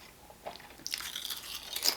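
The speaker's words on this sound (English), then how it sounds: "I need that crunch from the chip." Close-up crunching of Lays Lime Sea Salt potato chips during a mukbang meal, starting with a small crisp bite, then dense crackly chewing for the second half, fairly quiet and close with no talking.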